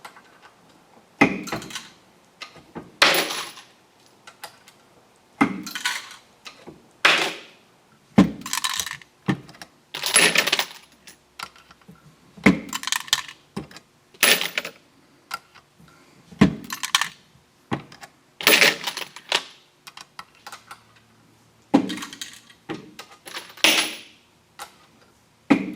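Fired .260 Remington rifle brass cases dropping into a tray during depriming, heard as a series of separate sharp metallic clinks at irregular intervals, close and fairly loud, with no talking.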